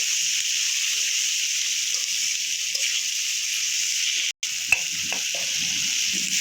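Chili powder with ginger and cumin paste sizzling in a pan while being mixed, a constant bright frying hiss with occasional soft stirring scrapes near the end, close and fairly loud.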